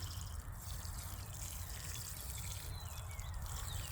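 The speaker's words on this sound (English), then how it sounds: "I'm going to keep watering until everything settles and the water is coming out at the bottom" Water pours steadily over a potted Amethyst Falls wisteria until it drains from the bottom of the container, with a faint trickling and soft splashing, quiet and continuous, with no voices.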